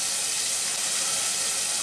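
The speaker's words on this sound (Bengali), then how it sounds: "একটু তেলের মধ্যে আমি ভেজে নিব" Farm layer chicken, washed in vinegar, frying in a little oil in a home kitchen, giving a steady, even sizzle that holds without a break, close and fairly loud, with no talking.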